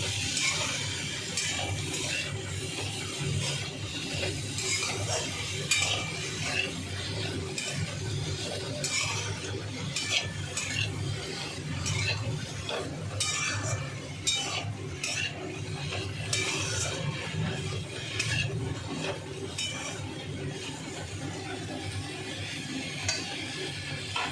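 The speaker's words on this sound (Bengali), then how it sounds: "এখন এটা চাপা দিয়ে রাখা আছে, ভাজা হচ্ছে সবজিগুলো।" Ridge gourd, pointed gourd and tomatoes fry in a covered pan, a steady sizzle running throughout with occasional scraping stirs and light clinks of a utensil against the pan, close and continuous with no talking.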